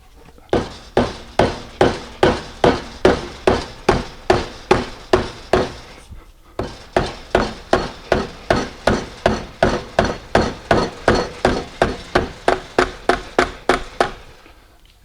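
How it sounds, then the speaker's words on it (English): A rubber mallet strikes the steel track of a 1967-68 Cougar or Mustang vent window held in a vise, about thirty steady, evenly paced blows in two runs separated by a short pause, close and loud. "Important to use a rubber mallet, in my opinion."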